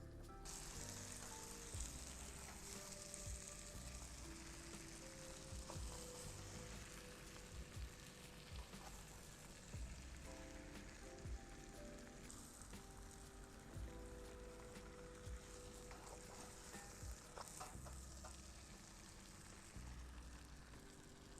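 Chicken pieces and capsicum sizzle steadily in a pan for sweet and sour chicken, a continuous loud frying hiss with scattered pops and occasional utensil scrapes, no talking.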